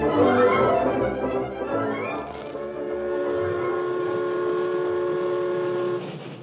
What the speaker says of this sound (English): The train from Colfax, drawn by its snorting wood-burning engine, rattled past the last spur of the Blue Sage Hills